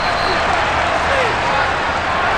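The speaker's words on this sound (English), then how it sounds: "And the home crowd applauding" Home crowd applause in Madden NFL 23 after a Seattle Seahawks win over the Washington Commanders, a dense, steady wash of clapping and crowd noise filling the stadium throughout, with no break.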